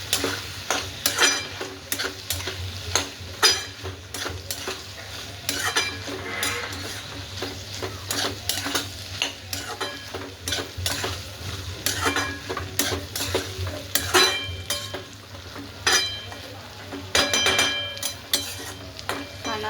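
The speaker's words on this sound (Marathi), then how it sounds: "आता आपण हा शेंगाचा कूट टाकून घ्यायचा आता परत एक जीव करायचा मस्त असा" Green beans with crushed peanuts are stirred and fried in a pan, making a busy, continuous sizzle broken by frequent spatula scrapes and clatters against the metal, close and moderately loud, with no speech.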